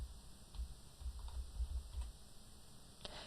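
Typing on a computer keyboard, a quick run of soft, close key clicks over a faint background hum, with a few taps ending in a sharper click.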